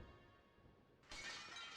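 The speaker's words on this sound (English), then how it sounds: "Mooncalf jumped screaming through the stained glass" A stained glass window shatters in a video game, a sudden bright crash of breaking glass bursting in after a low, quiet ambient hum and ringing on as scattering shards.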